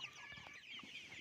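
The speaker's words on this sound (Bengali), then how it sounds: "আপনারা দেখতেছেন সোনালী মুরগিগুলো ফিডের সাথে অন্যান্য খাবারগুলো কীভাবে সুন্দরভাবে কাটছে" Faint, soft clucking of Sonali chickens pecking at mixed feed, a few scattered short calls against quiet farm background.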